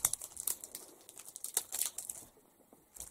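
Scissors snip through sheets of whatman paper, producing a run of sharp crisp cuts and crinkles, close and fairly quiet, with a short pause before a final snip.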